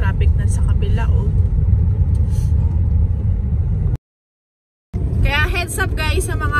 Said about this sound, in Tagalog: Ayun, traffic na sa kabila, oh.